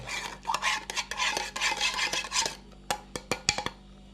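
Periwinkle curry with coconut milk stirred in a pot, a spoon scraping and rasping against the metal in quick repeated strokes, then a few sharper separate knocks near the end, close and fairly loud.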